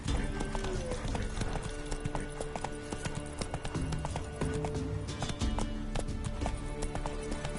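Geralt's horse Roach gallops in The Witcher 3, a steady run of hoof clip-clops close by with game sounds layered over it.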